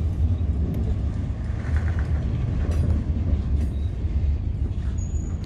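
Loaded freight cars carrying railroad ties roll past on a New York Central line, a steady close rumble of wheels on rail with faint metallic squeals and clacks, no talk over it.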